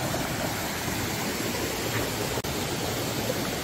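A small jungle waterfall near Klong Son on Koh Chang, Thailand, gives a steady, dense rush of falling water that holds an even level throughout with no voices.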